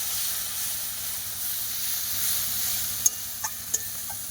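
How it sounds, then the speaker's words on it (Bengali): Chicken masala fries with a splash of water in a pot over a wood fire outdoors, giving a steady hissing sizzle with a low rumbling undertone, then three brief clinks or scrapes near the end, no talking. "সামান্য পরিমাণে জল দিয়ে মশলাটাকে আরও ভালোভাবে কষিয়ে নেবে"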